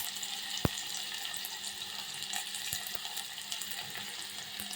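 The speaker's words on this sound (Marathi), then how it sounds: "त्याच्यामध्ये कांदा घालून घेते बारीक चिरलेला" Finely chopped onion hits a pot for frying in a home kitchen, giving a soft steady sizzle with a sharp clatter near the start and a few light knocks.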